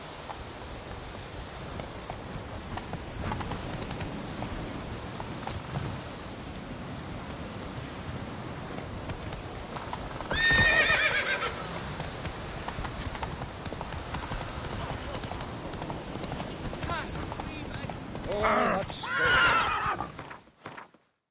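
Roach, the horse in The Witcher III, gallops with rapid, steady hoofbeats under faint rain, neighing sharply twice, once mid-run and again near the end.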